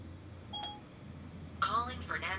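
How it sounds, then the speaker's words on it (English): A phone call placed through Apple CarPlay on a Pioneer NEX car radio: a short single dialing tone, then a synthesized voice speaks over a low steady hum. "Calling Fernando Lopez"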